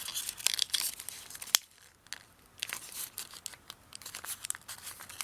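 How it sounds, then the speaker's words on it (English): Origami paper being folded and squashed flat into a crane, giving close, irregular crinkling and rustling bursts with one sharp crackle, heard alone with no talking. "pull the flaps apart and let this center triangle part here just squash down"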